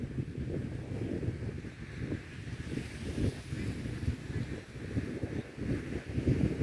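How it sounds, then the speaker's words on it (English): A breeze gusting across a beach, rough wind rumble on the microphone mixed with a soft wash of surf, steady and fairly close with small swells, no talk. "Got a nice breeze today."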